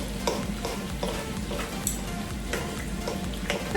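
Sausage and vegetables frying in a pan, a steady broadband sizzle with scattered sharp pops and splatters and light stirring clicks, close and continuous with no voices.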